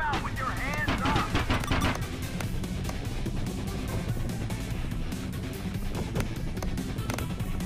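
Police open fire in the mobile driving game Smashy Road: Wanted 2, a rapid flurry of gunshots at the start that thins to scattered shots over a constant engine and crash backdrop, with someone talking throughout.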